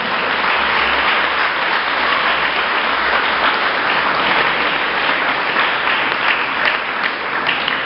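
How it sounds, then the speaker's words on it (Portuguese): A church congregation breaks into loud, sustained applause during a sermon, dense clapping filling the room evenly for several seconds without speech over it. "Eu acho que agora você pode aplaudir Ele."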